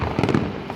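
Canada Day fireworks over a harbourfront, a short stretch of rumbling booms and crackle that sounds fairly distant, heard alone without voices.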